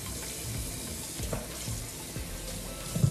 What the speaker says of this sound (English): Then I wash these shears off pretty good.